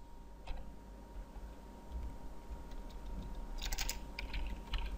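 Fingers tap a computer keyboard close by in a quick burst of light keystrokes, soft at first, then denser and sharper toward the end over a faint electronic hum.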